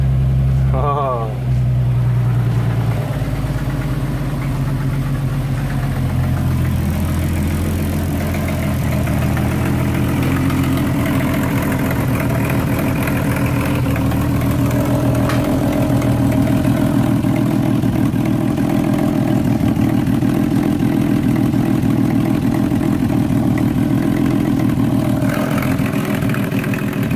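An R32 Skyline GTR single-turbo engine catches on its first start and settles into a loud, steady, rumbling idle that runs on throughout, with a voice speaking now and then over it.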